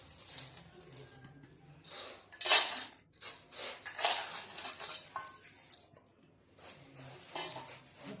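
Boondi kara is stirred with onion chili powder in a metal pan, with a spoon scraping and clinking against the pan in repeated bursts over a soft sizzle, close and moderately loud.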